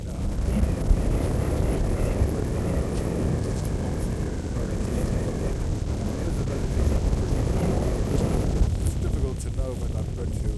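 Gusty wind buffets and rumbles loudly across a microphone on a mountain ski expedition in Sarek, a continuous blustery roar rising and falling, with faint voice fragments underneath.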